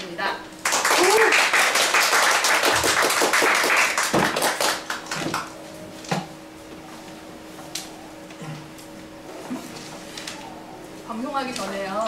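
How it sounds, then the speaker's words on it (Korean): A studio audience claps loudly to welcome the author onto a talk-show stage, a dense burst of applause lasting a few seconds before tapering into scattered claps under hosts' voices. "큰 박수로"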